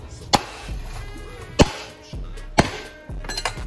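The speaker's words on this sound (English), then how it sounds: "put pressure on it, and then smack the flywheel nut" A hammer strikes the flywheel nut of a Predator small engine three times, sharp metallic whacks about a second apart, each ringing briefly in a quiet workshop.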